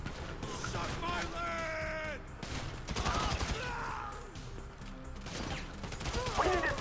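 Gunfire in GTA 5 rattles through a busy firefight, with repeated bursts and shots layered over game effects while a player talks over much of the action.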